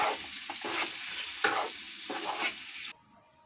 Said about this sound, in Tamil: எக்கு நல்லா ஒரு கோல்டன் ப்ரௌன் ஆகிற அளவுக்கு ஃப்ரை பண்ணி இதை எடுத்துக்கலாம்